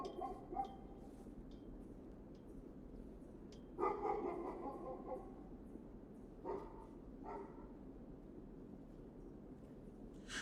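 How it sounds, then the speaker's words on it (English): A dog barks at a distance in a quiet outdoor setting, a handful of sharp, scattered barks with a louder cluster near the middle over soft background hiss, no talk. "it sounds like that damn dog Stonewall is alive and well"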